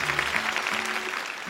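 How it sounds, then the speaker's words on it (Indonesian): Audience clapping for two contestants at an Indonesian Quran memorization competition, a short burst of dense applause with a faint voice and low hum beneath. "tepuk tangan dong untuk Iza dan juga Azam."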